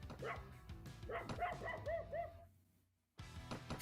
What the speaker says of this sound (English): Barking in protest.